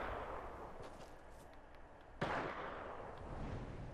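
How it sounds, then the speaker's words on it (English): A single sharp gunshot fired at the player in a video game cracks out once midway, faint and distant over a steady background hiss. "someone's shooting at me."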